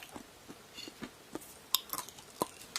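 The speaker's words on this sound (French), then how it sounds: "je vais en goûter une devant vous et vous allez voir que c'est hyper croquant" A crunchy microwave-toasted almond being chewed up close, with a quick series of crisp, brittle crunches and soft mouth sounds spread irregularly across a quiet background.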